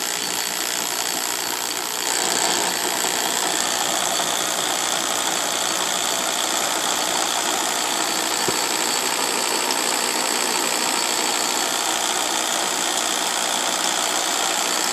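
An NV4500 manual transmission spins in fourth gear at a 1-to-1 ratio, giving a steady, continuous mechanical whir and hum that carries at an even level for the whole stretch, with a slight lift in intensity after the first couple of seconds.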